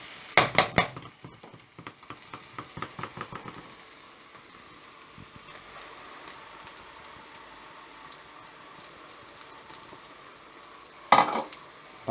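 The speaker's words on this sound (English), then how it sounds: "Now tomato will fry." Tomato frying in a pan with onions, ginger, garlic and green chilies for chicken Madras, a steady low sizzle with a few stirring clatters and utensil knocks near the start and a sharp clank near the end.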